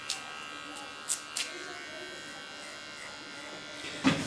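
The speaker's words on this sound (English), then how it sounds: "Clean the contour of the neckline with a small clipper." A small Tondeo hair clipper buzzes faintly and steadily while trimming the neckline during a haircut, with a few brief clicks and soft sounds over the low hum.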